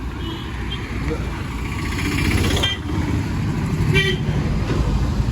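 A passing superfast express train sounds its horn in short toots over loud rumbling track and traffic-like noise, heard outdoors near the line.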